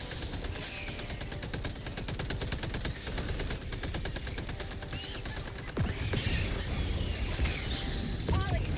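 Autocannon and Gatling gun fire in Helldivers 2 rattle in long rapid bursts, a dense stream of shots that gives way to heavier booming impacts and chaotic battle noise toward the end.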